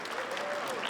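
Brief burst of steady audience applause at a Lunar New Year community event, honoring the Indonesian American community, dense and even with faint crowd murmur underneath.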